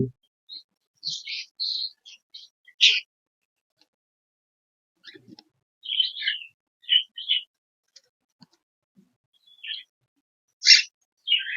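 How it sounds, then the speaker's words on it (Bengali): A cockatiel held in the hand gives short, bright chirps in scattered bursts separated by silent gaps, close and fairly loud with no other sounds. "এই যে দেখুন একটা পাখি আপনাদের ধরে দেখাচ্ছি"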